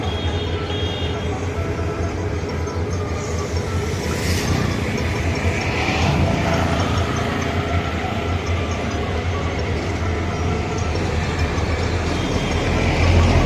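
A train runs on the railway near Kamalapur rail station, its loud, continuous rumble and clattering wheels filling the whole stretch close by.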